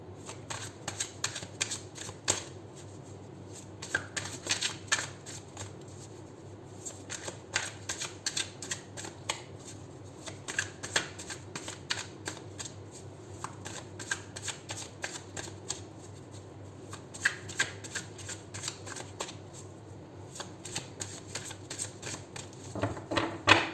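Steady riffling and snapping of tarot cards being shuffled over and over in repeated bursts, close by with no talking, lasting the whole stretch.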